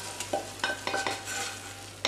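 Sausage frying in a pan with onion and pepper added, a steady sizzle with a few sharp stirring scrapes, close and fairly quiet, no voices.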